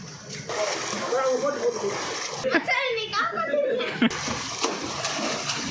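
People splash in the water during a swimming lesson, a steady wash of close splashing and sloshing under ongoing talk and bits of laughter.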